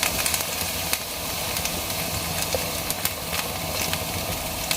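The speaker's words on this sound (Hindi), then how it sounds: "लहसुन को हल्का सा फ्राई करेंगे।" Garlic lightly frying in cooking oil in a pan for white sauce pasta, a steady broadband hiss and sizzle running continuously with faint crackles, fairly close and without talk.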